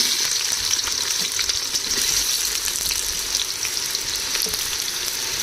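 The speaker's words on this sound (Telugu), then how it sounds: "ఇదిగోండి 4 కట్ చేసిన ఉల్లిపాయలు వేసుకోవాలి" Chopped onions frying in hot oil in a pan, a loud, steady sizzle and crackle that runs unbroken from start to finish with no voices.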